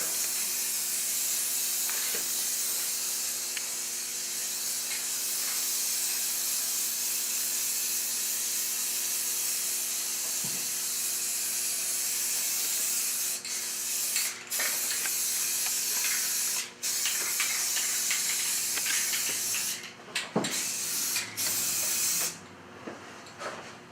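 A primer coat is sprayed evenly onto a surface to build a snow base, giving a steady, close hiss that runs unbroken with a few brief clicks and knocks toward the end.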